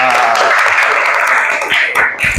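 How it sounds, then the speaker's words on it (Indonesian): A class of third-grade children applauds together in a short, loud burst that tapers off, with some voices mixed into the clapping. "Nah, tepuk tangan untuk kalian semua."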